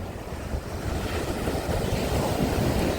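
Sea surf on the Odesa shore at Langeron on a December day, a steady broad wash of breaking waves mixed with gusty wind buffeting the microphone, continuous and fairly loud with no voices.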